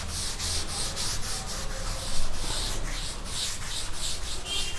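A classroom board is wiped clean of written math, a close, rhythmic scrubbing that sweeps back and forth in a steady hiss-like rubbing without any speech.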